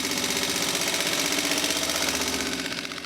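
Rebuilt junkyard Mopar 360 V8 running with one valve out of adjustment, heard up close as a steady, loud mechanical clatter with rapid rhythmic ticking throughout, no voices.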